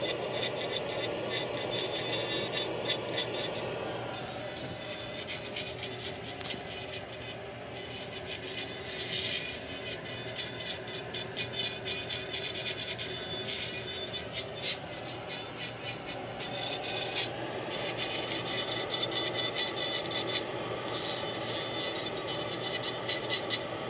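Grinding a screw off a dental metal framework for a full-mouth restoration, a continuous high rasping whine that holds steady for the whole stretch, close and fairly loud with no talk.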